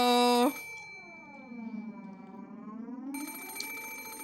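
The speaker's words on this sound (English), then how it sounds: "The sudden ring of the phone made me jump so hard I thought my heart would explode." A telephone rings in the Umineko When They Cry visual novel: a loud, bright electronic ring cuts off abruptly, then a low sweeping tone hums until the ringing starts again.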